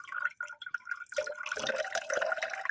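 Water from a freshly cracked coconut drips and trickles steadily into a container, soft liquid patters close by, then a fuller pouring splash as the flow picks up.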